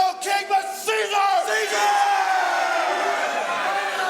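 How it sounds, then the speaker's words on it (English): A large crowd in a staged crucifixion scene shouting in unison for the death of Jesus, a loud sustained chorus of angry yells that swells and holds, heard without other sounds. "The crowd's cries for the death of Jesus build over the course of the scene"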